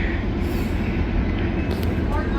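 An eastbound mixed manifest freight train on the Canova line in Marion passes nearby, a steady, loud rumble and roar with rail noise filling the whole stretch and no break.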